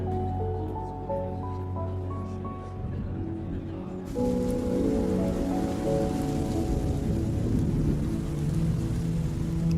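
Steady rain falls in a thunderstorm, starting as a softer patter under music and swelling abruptly into a loud, dense downpour with rumbling thunder.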